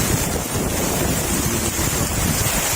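Strong wind roars continuously at a shoreline near a hut in Malabon, buffeting the microphone loudly and steadily with surf churning beneath, no voices heard.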